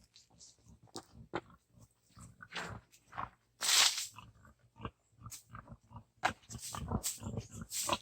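Pigs on a farm come running to be fed in hot afternoon weather, a scattered series of close grunts, snorts and squeals, with occasional loud bursts and rustling between them.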